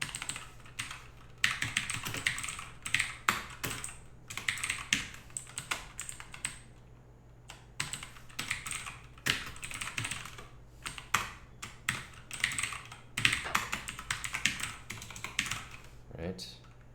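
Fingers type code on a computer keyboard in quick irregular bursts of clicking keys with short pauses between, close and fairly quiet, while a person talks at times.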